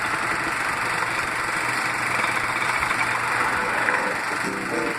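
A motorcycle engine idles at a drive-in, a steady mid-pitched rumble with faint knocking vibration and a constant high whine running throughout, no voices over it.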